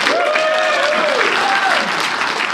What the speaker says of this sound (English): How about a round of applause for Eugene?